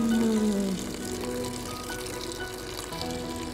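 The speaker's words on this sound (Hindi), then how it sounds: "थोड़ा गर्म पानी मिला लेती हूँ बाल्टी में," Hot water is poured into a bucket, giving a continuous rushing, bubbling splash that stays at an even, fairly loud level throughout.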